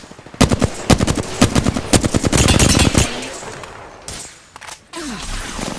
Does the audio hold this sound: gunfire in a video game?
yes